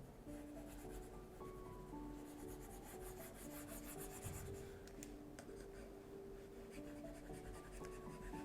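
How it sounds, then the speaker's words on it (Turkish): Soft, steady scratching and rubbing of a stylus pen during digital painting, continuous and close, with a faint tonal hum in the background. "muhtemelen kalemin sesi mikrofona geliyordur"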